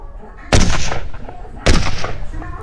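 Two loud, sharp sniper rifle shots in the mobile game Sniper 3D Assassin, about a second apart, each followed by a rumbling decay.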